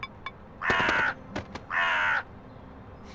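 A crow-like bird caws in the Elroy and the Aliens video game: two long, loud harsh caws, each about half a second, with a few short clicks and chirps between and after them against quiet background.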